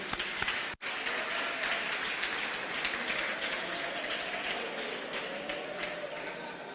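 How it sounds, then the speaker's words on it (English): A full round of applause fills a maths workshop room for a Grade 11 class, a dense, steady wash of many hands clapping that holds for several seconds after one brief sharp break near the start. "let's give a nice round of applause to Sipo"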